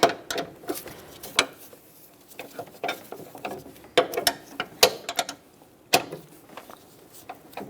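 A ratchet wrench cranks down the right engine mount bolt on a 2012–2018 Nissan Altima 2.5L, close, sharp clicking bursts in uneven strokes with short pauses between, no voice.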